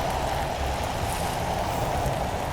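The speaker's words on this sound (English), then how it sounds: "that's the rain!" Rain falls in a constant, even hiss with a low rumbling undertone, steady throughout and with no voices.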